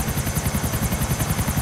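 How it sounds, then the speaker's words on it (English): In the video game GTA 4, a helicopter flies on patrol, its rotor chopping in a fast, even, pulsing rhythm over a steady engine whine, loud and close with no talk. "Now we're just doing some helicopter patrolling."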